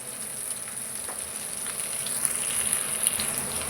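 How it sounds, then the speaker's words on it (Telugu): Potato and onion pieces fry in a pan for a potato-egg curry, giving a steady close sizzle with light crackle and no voices. "ఈ ఆలుగడ్డ ముక్కలు, ఈ ఉల్లిపాయ ముక్కలు వేగినాయి కదా"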